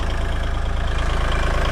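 A tractor engine idles steadily nearby, a constant low, throbbing rumble with an even rhythmic pulse and no talk over it.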